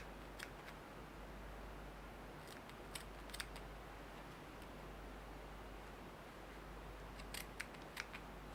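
Faint crisp snips from scissors cutting knitted fabric come in scattered short clusters over a steady hiss of background noise.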